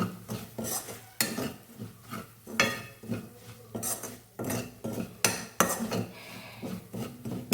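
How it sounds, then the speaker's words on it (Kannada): Pepper being stirred and roasted in a pan for a Kerala-style ginger curry, heard as a series of sharp metallic spoon scrapes and clinks against the pan, repeating roughly every second over a faint sizzle. "ಇದು ಮೆಣಸು ಚೆನ್ನಾಗಿ ಹುರ್ಕೊಳ್ಳೋ ತನಕ ಹುರ್ಕೊಳ್ಬೇಕು."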